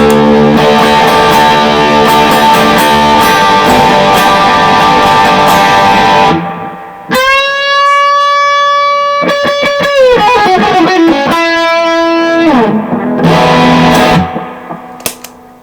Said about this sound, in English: I actually like how this sounds better with the overdrive and the distortion than I do without